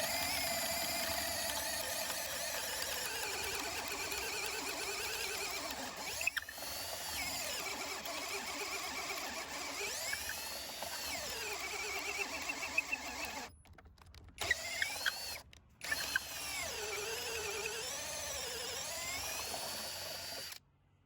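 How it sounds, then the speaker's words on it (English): A Parkside 12V Performance drill on speed 2 boring into wood with a 16mm auger bit, giving a loud, steady whining motor drone with shifting pitch that briefly cuts out twice near the end. "Starting off with drilling in wood. This is a 16mm auger drill bit."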